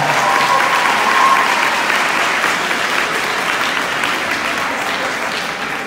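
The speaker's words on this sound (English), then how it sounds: "they do deserve a round of applause" A crowd applauds steadily for several seconds at a school sports awards event, the clapping loud at first and easing slightly toward the end.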